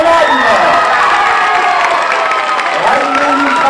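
A gala audience cheers and applauds loudly for a newly crowned beauty queen, a continuous wall of crowd noise with high shouts and whoops layered over steady clapping.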